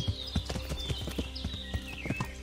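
Horse hooves clip-clop at a steady trot in Kingdom Come: Deliverance, a regular close rhythm of soft thuds with faint creaks over a low game ambience, with no talk.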